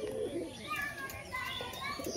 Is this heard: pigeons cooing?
yes